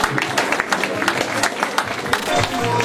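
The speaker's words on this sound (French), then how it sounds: "Alors les applaudissements encore une fois," Audience applause breaking out for thanks at a gathering, a dense wash of clapping with some voices mixed in, fairly loud and sustained.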